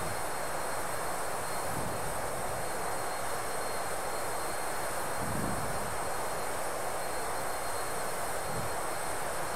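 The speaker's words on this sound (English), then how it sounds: "now you're going to hear the plane again" Inside a Learjet 35A in flight from Las Vegas to San Francisco, a steady broadband cabin roar holds at an even level throughout, with no talk.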